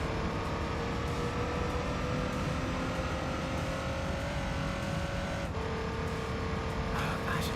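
Flat-four boxer engine of a race car in Gran Turismo 3 on a mountain road, droning steadily and loud throughout, pitch holding then dropping with a gear change near the end, under constant game sound with talk over it.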